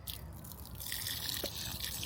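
Water splashes and drips steadily onto freshly planted tomato plants in a spring garden. The watering is close and continuous, with small trickling variations.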